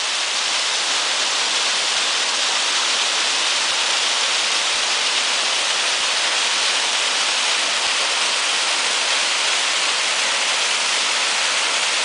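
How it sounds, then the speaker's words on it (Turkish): Water pouring from a height at a waterfall in Gürede, heard from close by as a loud, unbroken rushing roar that stays even throughout. "Şelaleye iyice yaklaştık"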